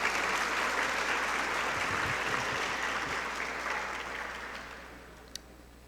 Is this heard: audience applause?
yes